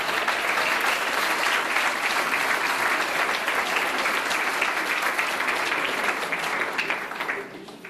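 A conference audience at European Paper Week 2017 bursts into loud, dense applause, many hands clapping steadily and close for several seconds before tapering off near the end.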